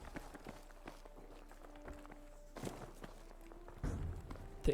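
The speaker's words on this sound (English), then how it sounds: "I think he hears some footsteps." Footsteps in a competitive team shooter match sound as a faint, irregular run of soft steps over low background hum, with a couple of slightly louder impacts toward the end.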